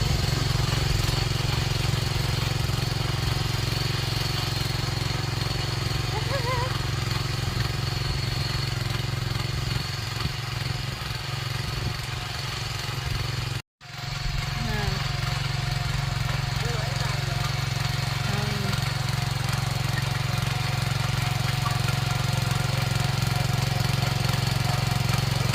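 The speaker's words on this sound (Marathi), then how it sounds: "ब्लॉगर आता ट्रॅक्टर चालवत आहे." A tractor engine runs at a steady, droning idle-like rhythm with a constant low hum. It holds close and even throughout, apart from one brief dropout midway.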